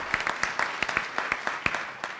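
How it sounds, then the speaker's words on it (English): Scattered clapping from a small audience at a community announcement about investment in West Louisville, with distinct individual claps in an uneven rhythm, fairly near and moderately loud, with no voices over it. "Let's give a round of applause to Steve."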